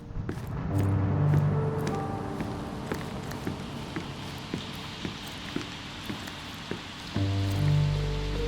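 Rain falls in a Sherlock Holmes Chapter One game flashback, a steady patter of drops with scattered sharper taps across the whole clip and soft tonal music beneath at the start and end.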